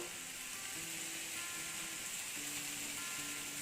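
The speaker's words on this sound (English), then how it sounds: "your onions you need to cook on the tawa for around 5 to 6 minutes till they are light brown" Onions fry on a hot tawa with a steady, even sizzle and crackle that runs the whole time beneath soft background music.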